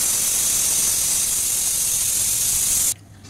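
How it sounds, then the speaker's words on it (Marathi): A pressure cooker whistles as vegetables cook, a loud, steady jet of hissing steam that holds for about three seconds, then cuts off abruptly. "ते कुकरची शिटी होत आहे"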